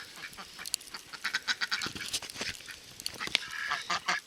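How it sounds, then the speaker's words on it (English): Ducks quack and honk outdoors in a blizzard, with a flurry of raspy calls close by, overlapping and irregular, over a soft background of wind. "So the ducks don't seem to mind the blizzard too much."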